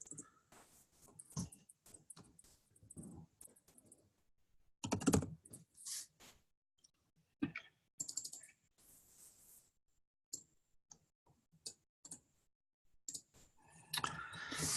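Typing on a computer keyboard during a team call, with bursts of quick clicking keystrokes in irregular runs and pauses, close and moderately loud, with no talking.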